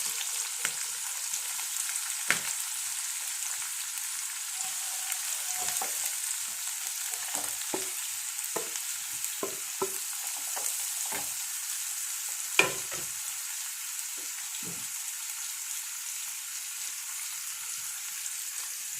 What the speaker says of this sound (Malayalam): എണ്ണ ചൂടായി കടുകിട്ടു മുളക് പൊടിയൊന്നുമില്ല ഏ പച്ചമുളകും കൊണ്ട്